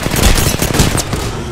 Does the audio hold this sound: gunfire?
yes